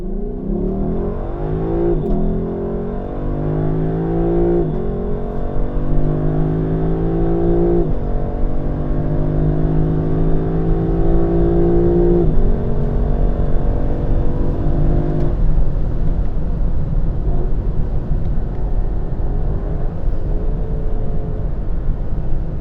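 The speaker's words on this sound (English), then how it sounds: "there's nothing like a normally aspirated V8 engine." A naturally aspirated V8 in a 2021 Lexus LC500 Convertible revs hard through several rising pulls, each gear climbing in pitch before dropping, then settles into a loud steady drone; no talking.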